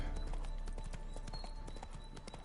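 Hooves of the horse Roach in The Witcher video game clop steadily at a trot in a red desert, a continuous near rhythm of soft thuds over ambient game sound and music.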